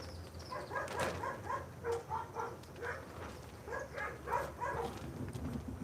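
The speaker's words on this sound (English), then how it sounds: "You hear the dogs?" Several dogs bark at the door repeatedly in short, excited bursts, moderately close, with a few yips mixed in and no talking.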